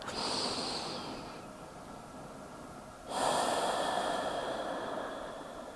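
Slow, audible breathing during a lying upper-back exercise, with a soft inhale early on and a fuller, louder breath about halfway through, close and steady, with no talking.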